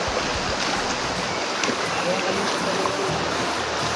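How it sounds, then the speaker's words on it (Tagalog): Steady broadband rush of water flowing along a river in Barangay Duruarog, Diadi, Nueva Vizcaya, continuous and fairly close, with faint talk mixed in. "dadaan tayo ngayon dito sa ilog"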